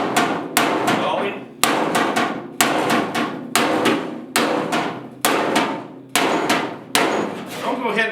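A ball peen hammer raps a 1956 Mercury steel door panel against a dolly in short bursts of quick metallic blows, eight clusters spaced about a second apart, close and ringing, with no voices.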